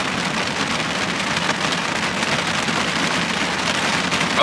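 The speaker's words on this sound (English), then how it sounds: "coming to you live from a massive flipping rainstorm" Heavy rain pours steadily on a surface during a nighttime rainstorm in the countryside, a dense, continuous roar of drops close by with no voices.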